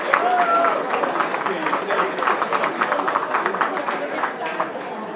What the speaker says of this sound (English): Let's give a round of applause for Keisha Snow